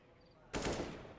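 A burst of gunfire in Counter-Strike on the Inferno map, fired through smoke during a pro fnatic versus mousesports match; a sudden loud volley starts about halfway in and rattles on to the end.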